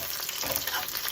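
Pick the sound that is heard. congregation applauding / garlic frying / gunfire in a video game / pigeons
garlic frying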